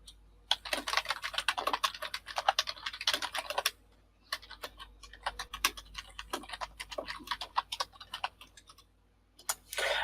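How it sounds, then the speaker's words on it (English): Rapid clicking on a computer keyboard comes in close bursts of fast keystrokes, a short pause near the middle, then more uneven typing, with no talking. "Just sat there typing during the podcast."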